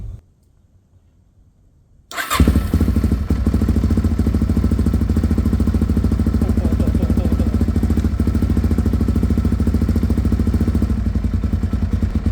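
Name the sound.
Suzuki DRZ motorcycle engine starting and idling after rebuild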